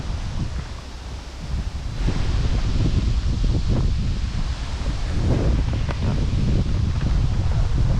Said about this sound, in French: L'étang est agité à cause du vent